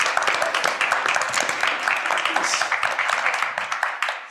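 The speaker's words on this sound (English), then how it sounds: "Please, a round of applause for our panelists." Audience applause for the panelists at the close of a Montréal climate panel discussion: dense, steady clapping from a crowd filling the room throughout, tapering slightly at the very end.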